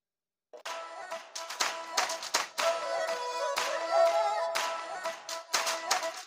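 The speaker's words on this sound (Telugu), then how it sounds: "చప్పట్లు కొడుతూ ఆహ్వానిద్దాం." An audience claps to welcome two singers on stage, sustained lively applause that starts abruptly and continues at full strength without letting up, with no voices.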